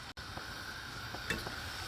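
A pickling solution for jalapeños bubbles on the stove in a pot, giving a faint, steady crackling hiss of boiling liquid for a couple of seconds with no voices.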